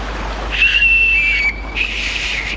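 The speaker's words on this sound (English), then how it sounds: "Look, you can blow these and they'll whistle." A hollow bush nut blown like a whistle gives a thin, shrill, airy tone held for about a second, then a second breathier blast, loud and close.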